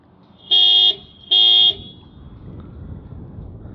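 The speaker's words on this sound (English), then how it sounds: "So it just beeps the horn," Two short, loud car horn beeps in quick succession from a 2017 Toyota 86's key-fob panic button, followed by quiet background hum.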